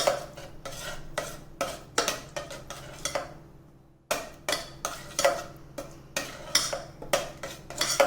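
A spoon scrapes and clinks against a bowl while raw spices, cumin, red chilli powder and coriander-cumin powder, are mixed for urad dal, in repeated brisk strokes with a short pause in the middle.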